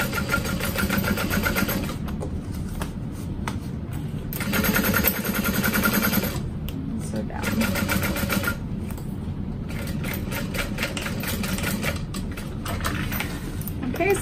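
A sewing machine runs a steady top stitch along a fabric barrel bag, its even mechanical hum close and continuous for the whole stretch, briefly dipping and resuming.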